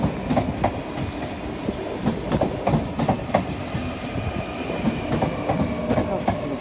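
A Sprinter Light Train rolls into Rotterdam Centraal station, its wheels beating a steady clickety-clack over rail joints at moderate loudness with a busy station rumble underneath and no talking.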